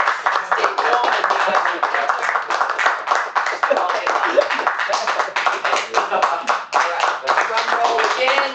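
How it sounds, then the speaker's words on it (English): Audience at a Toastmasters meeting clapping steadily in a dense, continuous burst that lasts throughout, with faint voices mixed in underneath. "drum roll again, we're gonna drum roll and clap"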